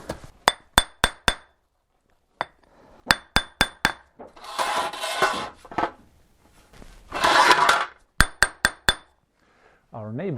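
A hammer taps paving stones on a terrace in quick bursts of four or five sharp knocks, separated by pauses and stretches of scraping and rubbing as stones are shifted.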